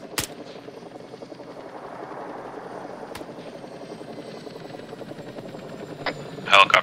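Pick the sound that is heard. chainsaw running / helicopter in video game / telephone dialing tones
helicopter in video game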